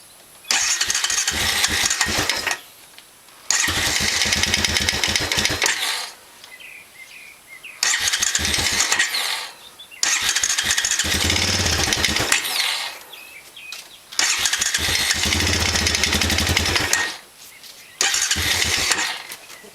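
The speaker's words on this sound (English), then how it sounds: "This is going to be the first start up on it, so hopefully everything will go good." Honda Recon 250 ATV engine after a top end rebuild cranking and catching in repeated bursts, loud and close, with several starts and stops separated by short quiet gaps.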